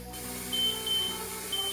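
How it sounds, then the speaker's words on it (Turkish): A kitchen timer alarm set for a stovetop cooking step, giving high, thin, intermittent beeps that sit faintly over a steady background hum. "Alarmımızı kapatıyoruz."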